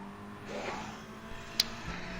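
A race car engine in GT Sport drones steadily at high revs against the rev limiter. It sounds fairly faint and distant, with a brief sharp click partway through.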